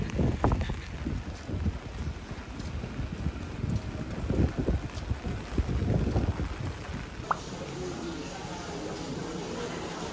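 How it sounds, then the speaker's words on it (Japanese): Strong gusting wind and rain sweep along Kokusai Street in Okinawa during a high-wave warning, a dense, continuous roar of wind buffeting the microphone with rain noise, steady and close throughout. "雨、風すごいです。"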